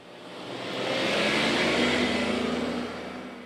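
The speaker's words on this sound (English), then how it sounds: "the revving of a truck engine fades" A truck engine revs up and swells, holding a steady drone before easing off and fading, with no talking.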